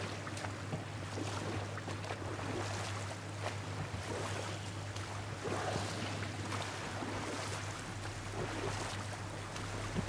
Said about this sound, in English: swimming, paddling around the waterway